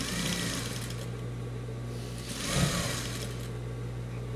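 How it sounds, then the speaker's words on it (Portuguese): A sewing machine runs steadily, topstitching close along the edge of a denim patchwork strip for a scrap rug, its motor hum continuous and near, swelling slightly in the middle with no talking. "passo um pesponto bem na beiradinha, que é pro jeans assentar legal"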